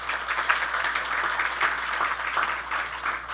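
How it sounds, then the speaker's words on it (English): Audience applause at a 15th anniversary celebration and AGM, a steady wash of many hands clapping indoors, moderately loud and continuous throughout. "So give them a round of applause."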